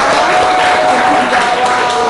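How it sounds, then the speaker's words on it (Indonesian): Audience applause filling a lecture or certification session room, a dense, steady wash of clapping hands that stays fairly loud and even throughout, with a faint tonal hum running underneath. "Oke, tepuk tangan buat Ferdi."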